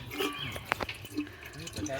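Mountain spring water fed down through bamboo drips from a pipe on a hillside trail, a few soft, irregular drops with people talking nearby.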